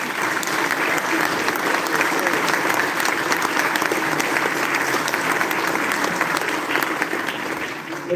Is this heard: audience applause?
yes